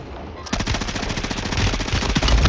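Automatic gunfire in the Warzone 3 video game, a rapid burst of closely spaced shots that starts half a second in and keeps going to the end, loud and dense, with a little talk beneath.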